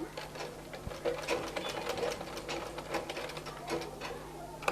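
A sewing machine stitches a baby's half pant in fast rattling bursts, pausing briefly between runs, close and moderately quiet with no speech.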